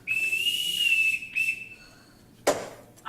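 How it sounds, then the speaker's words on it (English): A ship captain's whistle blown to summon children: a long, shrill steady blast, a shorter second blast, then a sharp brief chirp. "I can't bear being whistled for."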